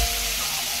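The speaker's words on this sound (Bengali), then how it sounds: "এবারে প্রত্যেক কটাই মশলা ভালো করে কষিয়ে নিতে হবে।" Spices are fried in oil in a kadai with chili powder and a pinch of sugar for a Bengali potoler dorma, giving a brief, close, steady hiss of sizzling.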